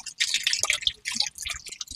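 Eel fish are washed in buttermilk, producing quick, close wet drips and squishy splashes in irregular bursts, with no voices.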